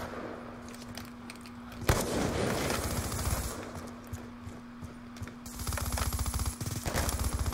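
Video game gunfire during a trickshot attempt, with dense rapid bursts of shots and mechanical clatter over a steady hum, loudest from about two seconds in and again near the end.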